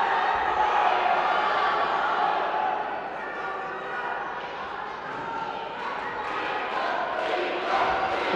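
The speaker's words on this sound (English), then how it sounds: "And the crowd are chanting his name." A crowd at an under-23 European judo championship in Samokov, Bulgaria chants a fighter's name, a steady distant roar of rhythmic voices filling the arena, rising and falling under a commentator's voice.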